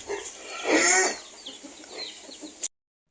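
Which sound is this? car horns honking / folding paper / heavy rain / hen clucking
hen clucking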